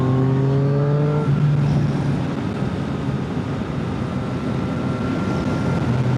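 A motorbike ridden along an open road, its engine droning steadily with a falling tone early on, then wind roar and road rumble carrying through loudly and continuously, with no talk.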